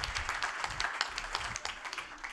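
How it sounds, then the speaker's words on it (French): Audience applauding at a soft-skills debate talk, a short burst of scattered hand claps, fairly faint and roomy, fading after about two seconds. "On peut l'applaudir."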